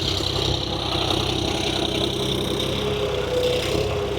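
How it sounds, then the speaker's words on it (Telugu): Two farm tractors, a John Deere and a Mahindra Tech Plus, drone steadily under load while pulling cultivators through a field, a continuous mid-pitched engine rumble with no pauses and no talk. "జాండీర్ వర్సెస్ టెక్ ప్లస్ ధూమ్ ధామ్ చేస్తున్నాయి ఈ రోజు"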